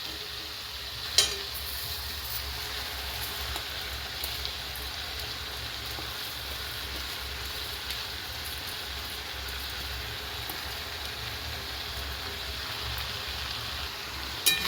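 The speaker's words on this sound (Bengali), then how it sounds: "এবার বেশ মিনিট 3 জন্য সমস্ত সবজিগুলো চিকেনের সাথে নাড়াচাড়া করে" Vegetables and chicken being stirred in a pot, giving a steady, close frying sizzle with a soft clink near the start and again at the end.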